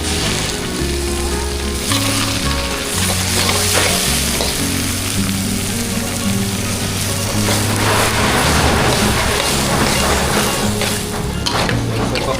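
Onion and tomato powder sizzle loudly in a hot pan as they are stirred, with continuous frying crackle broken by scraping and clattering of the spatula, and faint background voices now and then.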